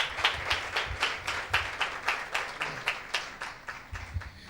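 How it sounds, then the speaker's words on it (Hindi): Church congregation clapping in a steady, rhythmic beat for about four seconds. Many hands clap together in a large room, moderately loud and without talking. "एक जोरदार ताली देंगे परमेश्वर की महिमा के लिए।"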